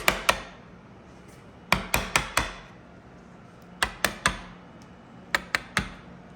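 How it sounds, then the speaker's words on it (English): A wooden chisel is struck to chop dovetail waste out of a board, giving sharp, close knocks in uneven clusters of two to four, separated by short quiet gaps. "we flipped this board over, and now we're going to cut out the waste."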